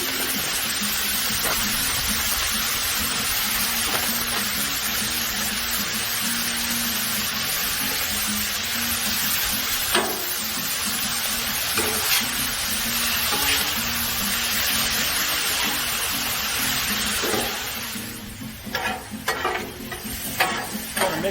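Vegetables fry and sizzle steadily on a Blackstone griddle over medium-high heat, a constant close hiss broken by scraping stirs, with sharper clatters toward the end.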